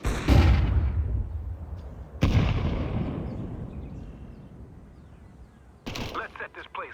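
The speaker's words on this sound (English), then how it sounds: "I'm throwing a flashbang." Flashbangs go off in a video game, two heavy booms that fade into long rumbling decays, then a sharper crackling burst, loud and close, with a voice speaking nearby.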